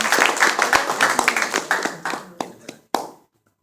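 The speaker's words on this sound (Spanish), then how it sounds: "Un aplauso para ella también" Applause from a gathering at a church prayer ministry meeting, a quick burst of clapping hands that thins out into a few scattered last claps and then stops, fairly close and loud.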